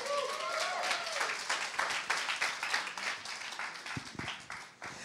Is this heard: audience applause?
yes